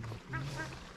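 A duck quacks near water in Chitwan National Park, Nepal, giving two short nasal calls close by over a low murmur of background noise.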